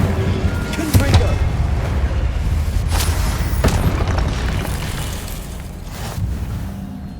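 Incendio and Confringo spell blasts go off in the Hogwarts Legacy video game, several loud booming impacts spaced a second or so apart over steady ambient game sound.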